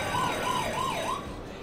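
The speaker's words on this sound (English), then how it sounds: "Some loud sirens." A wailing siren rising and falling in a steady loop in a prison-themed ride in the video game Planet Coaster, loud and continuous, fading slightly toward the end.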